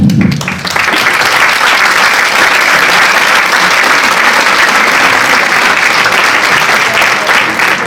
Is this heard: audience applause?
yes